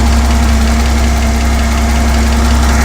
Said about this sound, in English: There's a little funny noise in there, so I'd say that pump's probably on its way out.